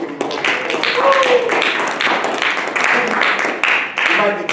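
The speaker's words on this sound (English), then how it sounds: "Let's give him a round of applause." A college audience gives a dense, sustained round of applause for a visiting museum curator, with a few voices and whoops rising over the clapping.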